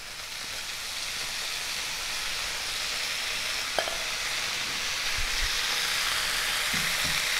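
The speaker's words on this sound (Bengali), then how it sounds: "ভালো করে ভাজা ভাজা করে আমি মেথি শাকটা দিয়ে দিচ্ছি।" Fenugreek leaves fry with potatoes in a pan for methi aloo dum, giving a steady, even sizzle throughout with a faint click of a utensil partway through.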